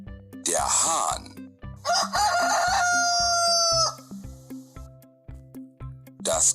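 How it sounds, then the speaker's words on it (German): A rooster crows loudly in two long, strained calls close by, with a brief third crow starting at the end, over a regular rhythmic low pulse in the background. "Der Hahn."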